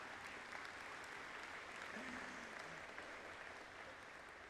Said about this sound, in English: Please applaud yourselves.